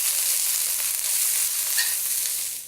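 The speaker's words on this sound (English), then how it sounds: "Okay, the stir fry is kicking in." Shredded green cabbage stir-frying in hot oil for Asian noodles gives a steady, close, bright sizzle that holds evenly throughout, with no one speaking.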